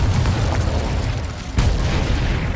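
A Confringo blasting spell in Hogwarts Legacy goes off as a deep, booming explosion, loud and close, with a second heavy burst following about midway.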